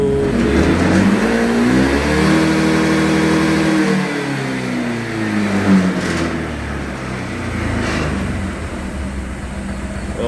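A stock, brand-new 2025 Honda PCX 160 RoadSync scooter engine accelerates during a top-speed run. Its whine rises, eases, then climbs again, loud and continuous with wind rush and no voices.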